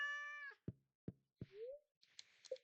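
Game-style cat meows from a sleeping kitty being petted in Stardew Valley: three short chirpy meows in a row, followed by a higher squeaky mew, all clear and close, with no talking over them.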